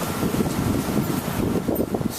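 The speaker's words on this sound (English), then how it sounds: "Super windy today." Gusty wind buffets a microphone with rough, fluttering noise that rises and falls throughout, loud and close, with no voices.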